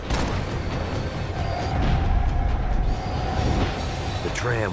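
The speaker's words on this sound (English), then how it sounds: "The tram was slowing down" A tram slowing down in Max Payne 3, a steady loud rumble of rail wheels and car noise with a thin sustained squeal running through the middle and a brief warbling tone near the end.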